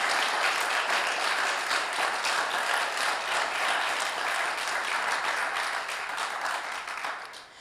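A church congregation applauds during a Pentecost sermon, a dense, steady wash of many clapping hands that holds evenly and then tapers off at the end.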